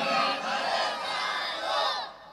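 At an outdoor political-religious rally in Jhenaidah, Bangladesh, a large crowd answers a takbir call with a loud, swelling collective shout that rises and falls in waves for about two seconds, then cuts off.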